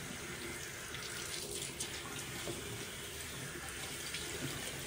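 Running water from a bathroom sink tap pours steadily while a face is washed, a close, continuous broadband splash with no talking.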